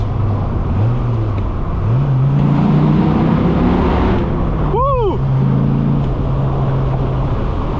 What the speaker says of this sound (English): tunnel coming up. All right, let us hear the exhaust.